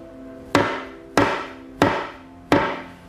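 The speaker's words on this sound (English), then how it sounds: "So if I take this piece of wood and hit it with a hammer" Four sharp, evenly spaced hammer blows strike a piece of wood, each a loud, close knock with a ringing tail, heard alone with no talking.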